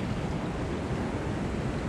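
A wide river mouth in bad weather in Jamaica, with a whole heap of water tearing out, makes a steady, dense roar of rushing water, loud and unbroken throughout.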